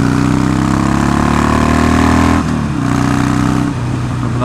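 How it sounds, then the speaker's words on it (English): A loud new motorcycle engine runs at a strong, steady roar close by, with its pitch dipping and shifting as it changes revs while riding toward a 20 mph corner. "Got a lovely sound to her, but I'm not used to a bike quite this loud, I must admit."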